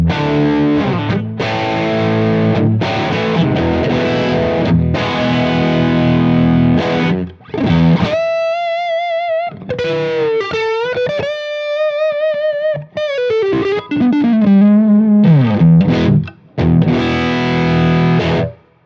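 Electric guitar through a Plexi Drive overdrive pedal playing chords and then bending single notes, crunchy and sustained, with short pauses between phrases and no voices.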